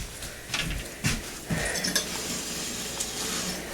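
Food frying in home-churned vegetable spread in a pan for a country breakfast, a steady sizzle broken by a few clinks and stirring knocks of utensils against the pan, close up with no talking.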